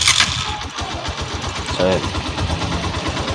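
A motorcycle that had trouble starting is restarted and settles into a steady idle, its engine pulsing close by while someone speaks briefly over it.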